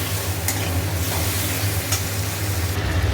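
Pointed gourd, green chilli, ginger and tomato cook in a pan with a loud, continuous sizzle and busy stirring scrapes, a couple of sharper clinks standing out, with no voices.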